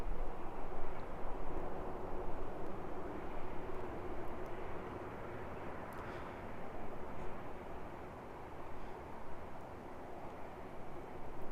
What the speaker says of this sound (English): Here we go, we've got Uniform Yankee Oscar with QantasLink 1893 back to Brisbane. The E190 departures from here sound really good.